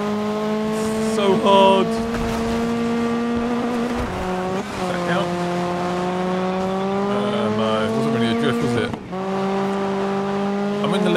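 Car drifting in the off-road racing game DiRT 5: a loud, close engine whine shifting pitch through gear changes, with tire squeal and skidding over a steady drive, while a player talks over it.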